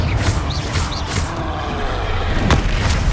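Fiery Confringo spell blasts in Hogwarts Legacy, a few loud booming impacts with crackling, whooshing bursts over rumbling combat noise.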